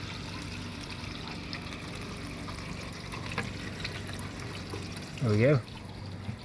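Steady water streams along a cleared house rain gutter, a continuous close pouring trickle, with someone speaking briefly near the end.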